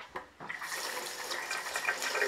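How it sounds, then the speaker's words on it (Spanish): Running tap water pours steadily over quinoa being rinsed in a colander, a continuous close hiss and splash that starts after a brief knock and holds without a break. "lo primero que vamos a hacer será lavar la quinoa bajo el chorro de agua en un colador"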